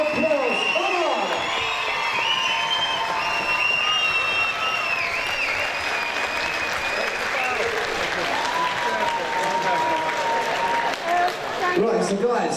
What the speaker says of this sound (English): Please give both of these fighters a big round of applause.